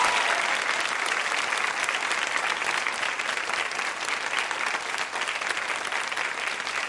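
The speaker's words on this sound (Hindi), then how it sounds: "चलिए सब तालियां बजाइए" Sustained applause fills the room for a young woman contestant at a quiz show, a steady, dense clatter of many hands clapping without a break for about seven seconds.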